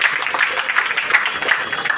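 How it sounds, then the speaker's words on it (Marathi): An audience at a birthday celebration event claps in dense, continuous applause, a crowd of many hands sounding steadily loud for the whole stretch. "पुन्हा एकदा जोरदार टाळ्या होत्या."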